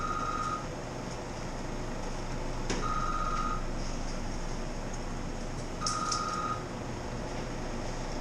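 A faint electronic telephone ring repeats three times at even intervals over a steady background hum of machinery during home beer brewing.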